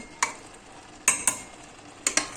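Quiet background hiss of a roasted-pepper hot sauce simmering in a wide pot, broken by four or five sharp clicks of a spoon knocking against the pot as it is stirred.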